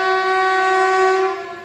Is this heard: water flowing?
no